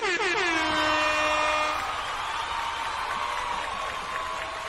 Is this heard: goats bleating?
no